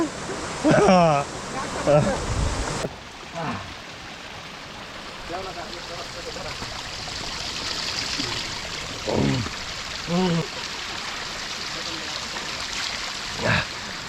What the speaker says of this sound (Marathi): जे वाहते झरणे आहेत ना याच्यातनं रस्ता पास करत जायला लागतो